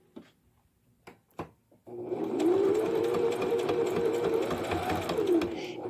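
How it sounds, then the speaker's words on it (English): Sewing machine back stitching a tote bag handle: a few light clicks and taps, then a steady, close mechanical whir that runs for several seconds before slowing at the end. "what I am going to do is actually back stitch"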